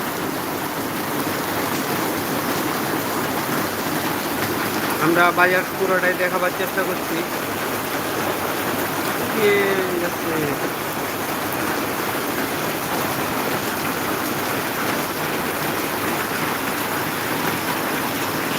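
Heavy rain pours steadily on a market street in Maharajpur, a dense, constant hiss filling the scene, while someone talks over it and a few brief vehicle or horn-like tones surface midway.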